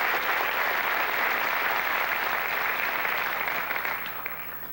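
A comedy show audience applauds, a dense, steady clatter of many hands that holds for several seconds and then tapers off near the end.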